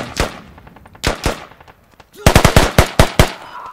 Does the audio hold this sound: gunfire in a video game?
yes